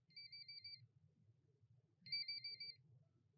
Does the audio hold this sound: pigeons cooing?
no